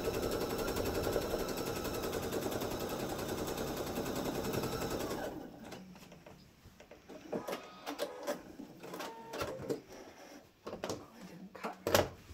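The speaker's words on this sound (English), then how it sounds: "Put it back in your machine and stitch" A sewing machine stitching quilt binding, running as a steady, dense mechanical whir for about five seconds, then stopping and giving way to scattered clicks, taps and fabric handling up close.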